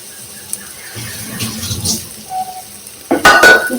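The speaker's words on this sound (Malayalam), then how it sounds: "ബീഫ് വേവിച്ചത് ഒഴിച്ചെടുക്കുന്നുണ്ട്." Cooked beef is poured into a potato beef curry in a pot, with soft stirring and clinks at first, then a louder splashing pour and sizzle at the end, close by.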